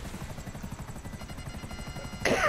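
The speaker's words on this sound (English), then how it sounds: "So you get to fly the helicopter." A helicopter in the video game GTA V sounds a steady, rapid rotor chop throughout, with a sudden louder burst of noise at the very end.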